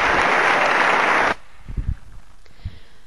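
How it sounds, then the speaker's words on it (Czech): Loud, dense applause from an ice show audience greets a figure skater, then cuts off abruptly after about a second, leaving faint thuds and a low voice. "první se nám představí 18letý Rupert Grint, kterého publikum nadšeně vítá."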